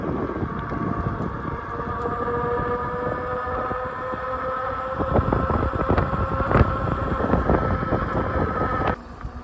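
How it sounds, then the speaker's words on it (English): A Hanover mini bike engine running while ridden, a steady droning hum with tonal whine that swells slightly midway, then cuts off abruptly near the end. "This Hanover tops out at about 30 miles an hour, which is pretty fast, I mean, for this little bike."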